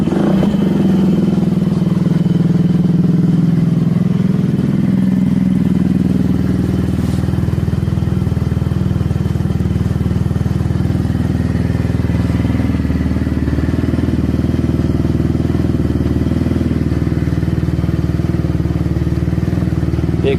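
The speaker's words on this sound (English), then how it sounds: "The exhaust is absolutely horrible. It sounds terrible." A free 125cc moped engine runs loud and close through a bad exhaust, a rough continuous blatting drone with a brief rise in pitch early on, then steady uneven running throughout.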